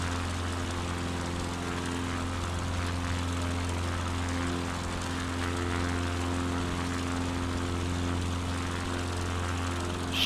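A propeller airplane engine drones steadily in Microsoft Flight Simulator 2024 during a ferry flight from East Troy to Schaumburg, with a constant low hum and no talk.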